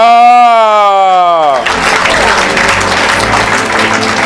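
A church congregation bursts into loud applause and cheering after a voice's sustained call, the clapping dense and continuous, filling the hall up close.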